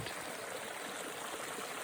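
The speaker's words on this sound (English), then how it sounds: "The water, the lovely stream trickling its way, singing its way across." A stream trickles and burbles in a steady, even rush of water, close and continuous with no voices.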